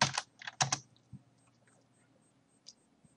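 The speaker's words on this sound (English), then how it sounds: "And I'm going to type in" Typing on a computer keyboard in Microsoft Word 2010: a quick close burst of key clicks at the start, then a few scattered faint taps, with no talking.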